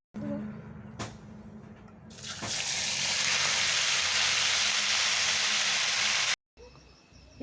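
Cut, washed mushrooms hit hot oil in a wok, setting off a sudden loud, steady sizzle that holds for several seconds before cutting off, with someone speaking faintly beforehand.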